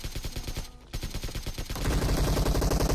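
Rapid automatic gunfire from the PUBG Mobile game rattles in dense, loud bursts with a short gap, then intensifies with heavier, continuous shots.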